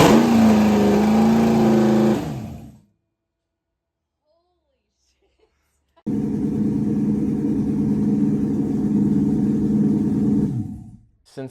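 LS-swapped BMW engine starting on its first start: a loud engine run cuts off into a few seconds of silence, then a steady rumbling idle resumes and holds before fading out.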